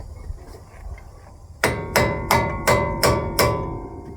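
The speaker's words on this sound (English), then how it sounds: "We need the hammer." Six loud, evenly spaced metallic hammer blows ring out close by during RV disc brake work, after a quiet stretch of faint rustling.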